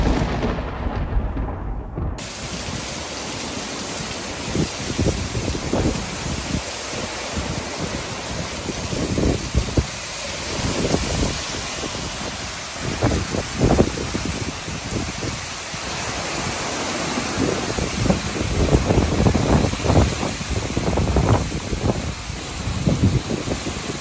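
Steady roar of heavy rain and gusting wind, broadband and continuous, with low rumbling surges throughout.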